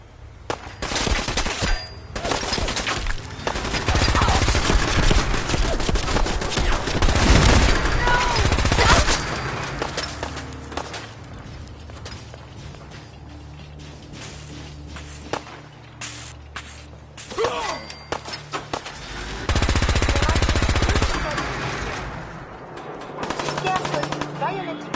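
Bursts of video-game gunfire from Fallout 4, automatic weapon fire in dense volleys with shouting voices over it, loud stretches around the start and again near the end, quieter gaps between.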